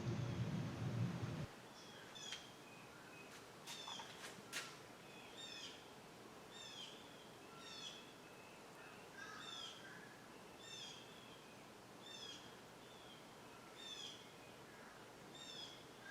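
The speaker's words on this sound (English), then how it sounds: "I have the door open so you can hear the birds out on the pond." Birds call repeatedly out on a pond in Southwest Florida, heard through an open door, short chirping phrases at a steady pace, faint and somewhat distant, following a brief louder noise at the start.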